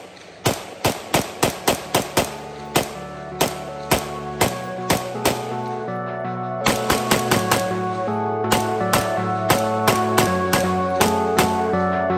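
Caracal CAR816 patrol rifle firing a long string of sharp, loud single shots at a quick, fairly regular pace with a short pause midway, each crack ringing out over the range with no talk.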